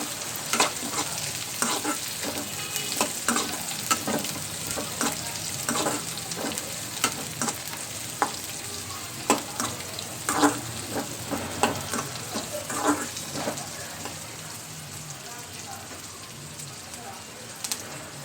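Peanuts fry in hot oil in a pan with a continuous crackling sizzle and frequent clicking stirs, fairly close. Someone talks softly at moments.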